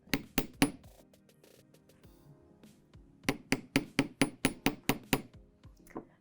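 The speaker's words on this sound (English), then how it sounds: "we'll go ahead and give it a light hammer just to get it firmed up" Light hammer taps on 6 gauge jewelry wire resting on a metal bench block: three sharp metallic strikes, a pause, then a steady run of about ten evenly spaced ringing taps, close and clear.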